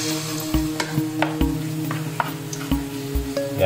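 Ginamsan batter spoons straight into hot oil in a pan, a continuous sizzle broken by several sharp spattering thumps and stirs at irregular intervals, close and fairly loud.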